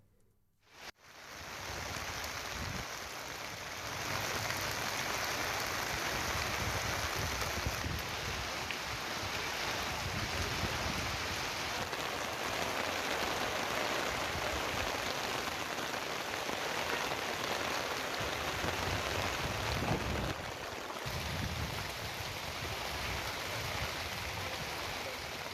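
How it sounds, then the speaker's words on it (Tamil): Heavy rain pours down in Tamil Nadu, a dense, steady roar of drops hitting surfaces close by that continues without pause and with no voices. "பல்வேறு பகுதிகளில் 1 மணி நேரத்திற்கு மேலாக கனமழை பெய்தது"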